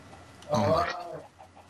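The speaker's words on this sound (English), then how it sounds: "Why is there so many chickens?" A single short clucking burst from a chicken in a video game, fairly close and clear, rising briefly then trailing off into quiet.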